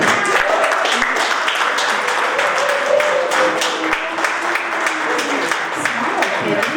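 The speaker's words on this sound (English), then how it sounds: "give them a round of applause" Parents, fans and grandparents clap for young players at a basketball awards celebration, a steady, dense crowd applause that carries on throughout, with voices murmuring beneath it.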